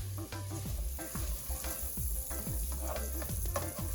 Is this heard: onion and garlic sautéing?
yes